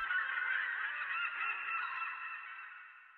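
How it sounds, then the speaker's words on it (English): A sustained, nasal seagull cry in a music track, drawn out over a few seconds and slowly fading, heard clearly with nothing else around it. "And the seagulls are right in here."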